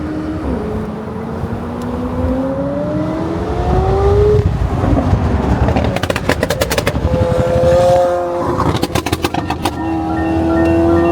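A straight-piped Chevy Blazer with its catalytic converter stolen drives past outside, a loud, raw exhaust drone rising and falling as it passes, followed by crackling pops and a sustained engine tone.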